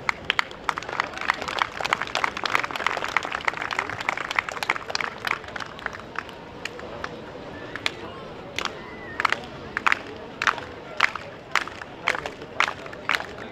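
Audience clapping around the cattle ring at the Balmoral Show 2023 dairy championship, dense at first and thinning to scattered individual claps, moderately distant with a faint voice briefly in the background.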